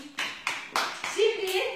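Children clapping during a school eTwinning project activity, a few short, distinct bursts of hand claps in an uneven rhythm, close by, with a voice sounding briefly among them.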